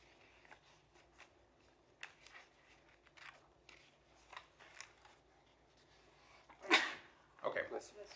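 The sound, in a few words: sneeze in a meeting room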